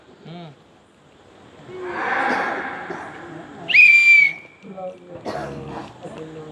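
A whistle is blown once during a short prayer gathering, a steady sharp tone lasting about half a second with a brief rising onset, set among murmured voices and crowd noise.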